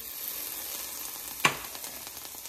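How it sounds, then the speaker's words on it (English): A green pepper fries in a skillet over medium-high heat, giving a low, even sizzling hiss with one brief sharp tap partway through, near and quiet, with no talking. "I've got a skillet on medium high heat. And I'm going to add one green pepper"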